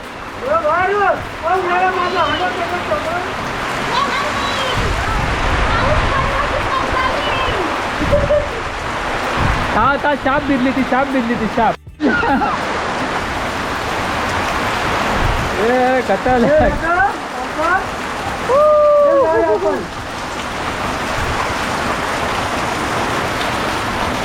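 Heavy monsoon rain pours down in a Konkan village, a dense continuous wash of sound with wind, while several people talk and exclaim over it throughout.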